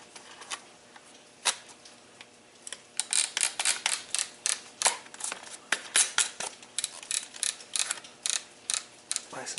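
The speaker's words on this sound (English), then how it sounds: "And then screw the bolt back on." Close, crisp clicks and ratcheting ticks as a bolt is screwed back onto an a300 Outlander, sparse at first and then coming in a quick, steady run, with no talking.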